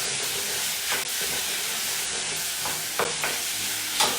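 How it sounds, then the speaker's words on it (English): Steady sizzling hiss of chicken stir-frying in a pan, with a few scrapes and clinks of a utensil stirring the food, fairly close. "when I'm stir frying some chicken or like cooking some chicken"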